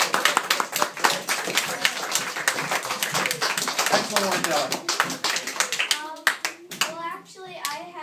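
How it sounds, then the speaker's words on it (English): Close, lively clapping from a small audience after a child's presentation fills the first six seconds, then fades as people begin talking. "let's give her a nice round of applause"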